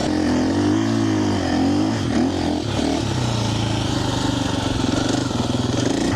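A 2025 KTM Champion Edition motorcycle being ridden, its engine droning loud and close with rising and falling revs and shifting pitch throughout, no talk.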